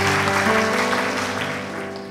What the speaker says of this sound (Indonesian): Tepuk tangan lebih meriah buat Yesus